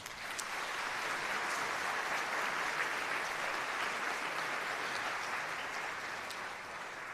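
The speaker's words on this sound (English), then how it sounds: "Please give these guys a round of applause." Audience at a band concert finale in an auditorium gives steady, sustained applause, a dense even wash of clapping lasting several seconds, heard from a distance and fairly faint.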